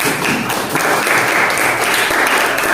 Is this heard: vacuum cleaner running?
no